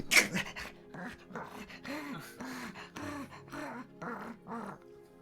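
A voice imitates heavy, rhythmic owlbear panting: a sharp gasp, then about eight breathy, voiced pants in a steady, close rhythm.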